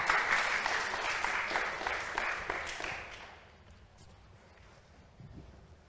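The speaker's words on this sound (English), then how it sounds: "big applause" Audience applause for student representatives at a government design final show, lively clapping for about three seconds that fades out into quiet room tone.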